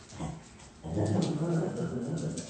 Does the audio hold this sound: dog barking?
yes